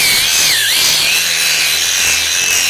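A Shieldpro cordless rotating-head angle grinder sands old paint off a wooden board, producing a loud, continuous high-pitched whine with gritty abrasive rasping and a brief dip in pitch under load, with no voices.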